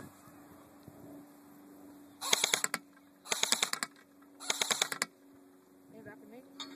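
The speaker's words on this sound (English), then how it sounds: "So now let's try full auto." A JG M4 airsoft rifle fires on full auto outdoors in wind: three short rattling bursts of rapid clicking shots about a second apart, close and sharp against a quiet background with faint wind and a low hum.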